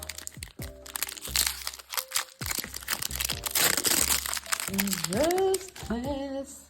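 Crinkly plastic foil of a Pokémon card booster pack being torn open and crumpled close up, with sharp crackles and rustles while people chat excitedly.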